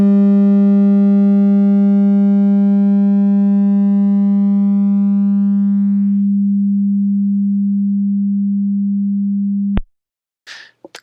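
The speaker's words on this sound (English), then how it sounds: "Very long decay, then we can barely hear the audio signal die out." A steady pure electronic sine tone from a damped oscillator with a very high quality factor, its upper harmonics fading after six seconds while the low tone holds almost level, then cutting off sharply near ten seconds, followed by brief faint noise.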